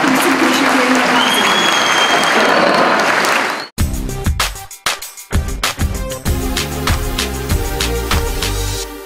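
An audience at a gathering of Rumeli women applauds, a dense, loud burst of clapping for several seconds. It cuts off abruptly, and scattered music or sounds follow.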